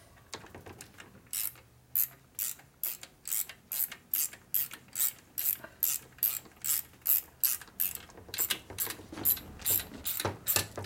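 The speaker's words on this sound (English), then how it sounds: "Bolt won't go in the hole." Ratcheting wrench turning a bolt on a 1958 Harley-Davidson FLH 74ci panhead engine lower end, a rapid series of evenly spaced metallic clicks in repeated strokes, close and clear with no talking.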